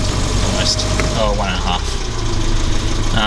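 Toyota KE70 engine running with the throttle or choke opened to raise the revs near 2,000, a steady close mechanical hum with someone talking over it.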